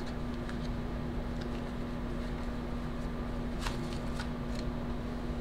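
Tarot cards shuffled and handled during a reading, a soft continuous riffle of card stock with a few brighter flicks and slaps as cards are laid out, close and quiet over a steady background hum.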